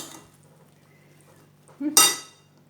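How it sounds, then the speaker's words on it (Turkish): Green lentil salad with salt and black pepper being stirred from the bottom up in a bowl, a faint scrape followed by one short, loud clinking stir near the end. "Şöyle şimdi iyice şöyle bir kere karıştıracağız alttan yukarı."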